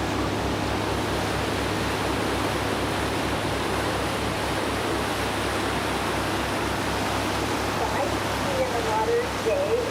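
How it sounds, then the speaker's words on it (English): Waterfalls roaring from a boat on a Klondike trip, a dense, steady rushing wash with low engine throb underneath, continuous and loud throughout. "Captain pulls up to these waterfalls"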